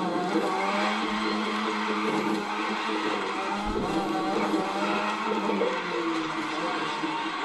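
A Mazda drifts in the racing game The Crew 2, its engine droning steadily with continuous tire squeal and skidding, loud and dense throughout, with a low thump near the middle.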